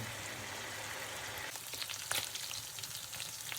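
A pork chop frying in oil, a soft continuous sizzle that turns into scattered splattering pops partway through, fairly quiet and with no voices.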